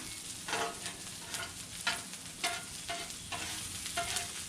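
Chopped jalapeno cooking in a pan, heard as a quiet, constant sizzle broken by about six rhythmic stirring scrapes of a utensil against the pan, close but low in level, no voices.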